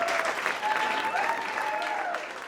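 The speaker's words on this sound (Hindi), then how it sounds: "यहाँ सब जोर से तालियां बजाएं प्लीज़।" A stand-up comedy crowd applauds loudly and continuously at the venue, with a faint voice talking over the clapping.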